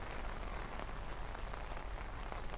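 Steady rain falls outdoors on a rainy election day in Hamden, a soft, even hiss of drops on surfaces with no voices.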